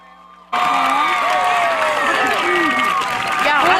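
After a quiet moment, a crowd at a school sports event bursts into loud applause and cheering. Shouts and whoops rise over the clapping, and voices keep talking throughout.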